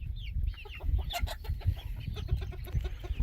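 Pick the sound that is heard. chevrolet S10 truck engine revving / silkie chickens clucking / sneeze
silkie chickens clucking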